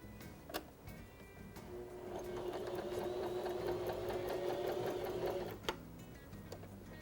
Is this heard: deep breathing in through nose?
no